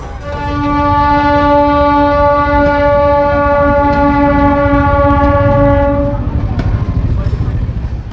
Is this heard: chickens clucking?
no